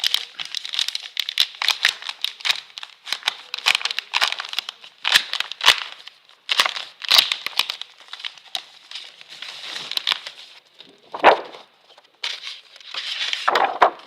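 Vintage-style label paper pack being torn open and handled, giving a steady run of close, crisp crinkling and crackling with sharper tearing bursts, no talking.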